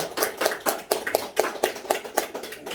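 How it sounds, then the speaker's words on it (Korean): A church congregation claps together in a short burst of applause, dense overlapping handclaps with a loose, slightly pulsing rhythm, fairly close and steady throughout with no voices. "박수로 한번 쳐주시기 바랍니다"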